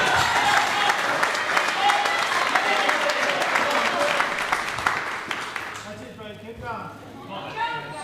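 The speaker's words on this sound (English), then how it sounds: "I love hearing the crowd get around Belinda." A crowd cheers and claps loudly, the roar fading after several seconds as voices talk over it.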